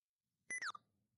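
A Windows keyboard lock countdown beep: a short, faint pair of electronic tones that slide downward, followed by a quick blip, alone in near silence.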